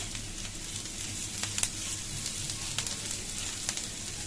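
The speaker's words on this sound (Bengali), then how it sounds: "পেঁয়াজটা খুব তাড়াতাড়ি ভাজা হয়ে যাবে" Onions sizzle steadily in a hot pan, a constant crackling hiss dotted with small pops, close and alone.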